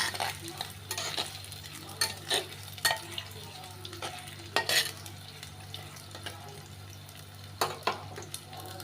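Chopped onions frying in a pan for a tengra fish curry, with a steady sizzle and repeated scrapes of stirring, close and without talk.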